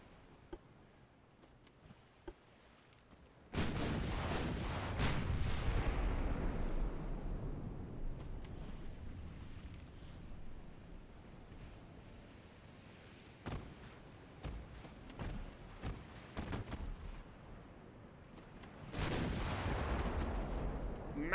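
Naval guns fire in the warship game Ultimate Admiral Dreadnoughts: a heavy booming salvo that rumbles into a long decay, then scattered smaller shots, and a second big salvo near the end.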